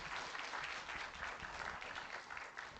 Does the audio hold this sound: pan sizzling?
no